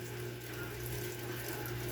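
A continuous, even rush of water poured onto dogs' food, like a tap flowing, steady and moderately faint throughout with no voices.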